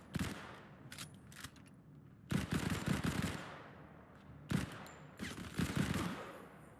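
Gunfire in the video game Modern Combat 5 comes as loud bursts of rapid shots, with three clusters separated by short pauses and faint background noise between them.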